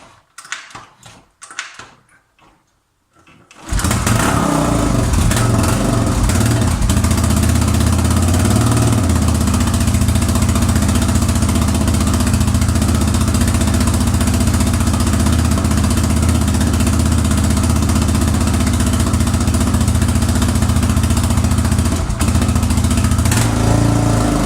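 A Suzuki DR 600 Djebel S single-cylinder motorcycle is started with brief clunks and cranking, then catches and settles into a loud, steady, close idle that runs on without a break.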